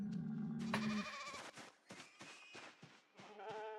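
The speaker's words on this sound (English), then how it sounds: "do you hear that? The sheep approve of that idea" Sheep in the farm game Project Zomboid bleat several times in quick succession, close and clear, following a brief low tone at the start.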